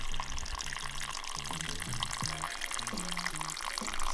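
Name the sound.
glacier meltwater running down a mountain in the Dolomites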